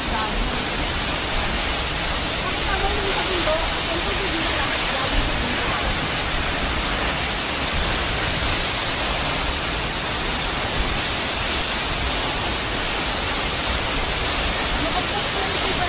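River water rushing near Dibulo Falls in Dinapige, Isabela, a steady dense broadband roar that stays constant throughout.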